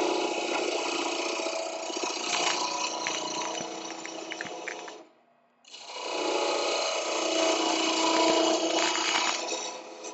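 A lathe parting tool pushed straight into spinning wood to cut off the end, a steady broadband machine whir with scraping texture, interrupted by a brief near-silent pause mid-clip before the cutting noise resumes just as loud.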